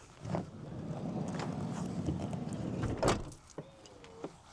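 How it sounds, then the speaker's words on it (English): A campervan's power-assisted door opens with a steady whirring motor running for about three seconds, ending in a firm clunk, followed by a couple of lighter clicks and a short mechanical squeak. "I've got an assisted door, so hold on."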